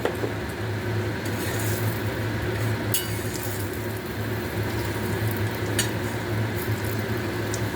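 Potatoes and mushrooms frying in a pan while being stirred, with a continuous close sizzle and occasional scraping clicks of the utensil against the pan, and no talking.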